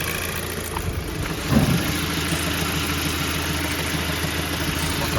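A Volkswagen GTI with the ED35 engine idles nearby, a steady mid-pitched hum with a slight swell around the second mark, running alone without speech.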